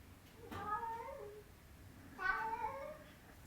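A cat meows twice with spaced, drawn-out calls, fairly close but soft over a quiet, calm room during a slow yoga class.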